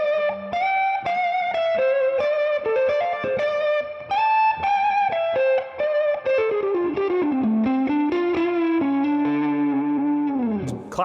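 James Tyler Studio Elite HD electric guitar with a mid boost engaged, a driven, slightly hairy solo line of sustained bends and quick runs, mid-heavy and loud, played alone with chorus-like shimmer.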